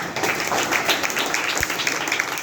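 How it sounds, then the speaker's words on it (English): An audience at a motivational speech applauds with dense, continuous clapping that fills the short stretch at an even level, with no voice over it. "So we have already given a round of applause to our Constitution."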